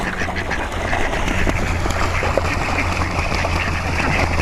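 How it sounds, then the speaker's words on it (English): Ducks quacking in a noisy outdoor setting during mating season, two drakes squabbling; steady close quacks over a dense, constant background hiss with no clear speech. "You goofy ducks."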